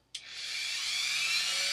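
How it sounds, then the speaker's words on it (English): A small Dremel rotary tool fitted with a sanding bit switches on abruptly and runs with a steady, close, high-pitched whine as it scuffs the painted backing of a mirror. "I'm going to use my little Dremel tool. I have right now on it a little sanding bit."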